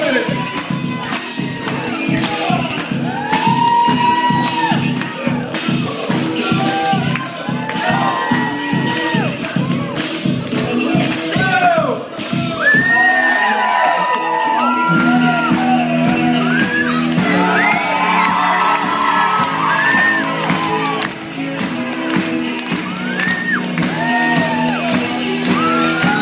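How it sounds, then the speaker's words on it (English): A large crowd of children screams, cheers and whoops loudly and continuously at a lively live show, the noise swelling in waves, with a brief dip midway before the roar picks back up. "Everybody scream, help him out."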